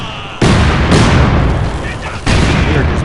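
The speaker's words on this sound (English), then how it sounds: "We are just bombing the hell out of that bridge." Heavy artillery pounding a bridge in the video game Company of Heroes 2: loud booming impacts arrive in abrupt bursts, with a sustained rumbling roar and crackle between blasts.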